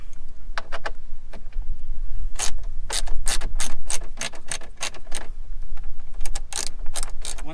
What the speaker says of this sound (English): this exposed 4 more 7mm screws here. Just going to go ahead and take those off